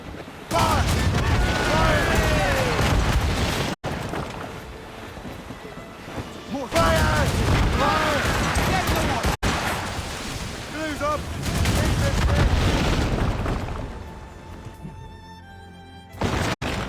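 Ship cannon fire during a naval battle in Assassin's Creed Rogue, loud booming volleys in several bursts with shouted orders between them, the guns rolling out across most of the stretch.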